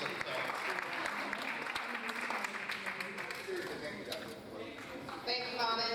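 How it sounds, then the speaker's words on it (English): Audience applause at an evening talk thanking a presenter, steady dense clapping from a crowd throughout, fairly close and loud, with some voices mixed in near the end. "please help me in thanking Bonin again with another wave of applause"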